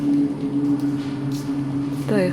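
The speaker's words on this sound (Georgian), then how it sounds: "ისმის გალობის ხმა" Church chanting inside Saint Lazarus church in Cyprus: a sustained low drone of voices holding steady pitches, fairly close, with a brief voice rising over it at the very end.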